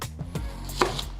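A kitchen knife chops through a large peeled onion on a board, a few close soft cuts and thuds with no talk.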